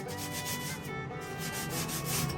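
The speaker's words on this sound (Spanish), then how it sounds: "Esto se lo voy a pasar a todas las maderas, le voy a pasar esta lija" Steady, continuous rasping of sandpaper rubbed back and forth over wood, close up and fairly even in loudness, with no talking.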